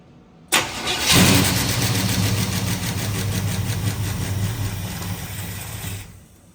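Chevrolet Camaro engine cranked on a jump box, catching with a sharp start at about half a second and then settling into a steady, loud idle close by for several seconds before cutting off.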